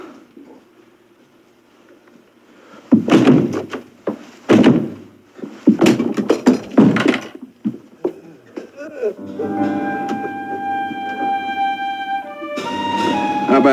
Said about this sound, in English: now you break down the door